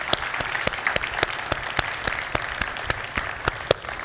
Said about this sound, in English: please join me in a round of applause in thanking the speakers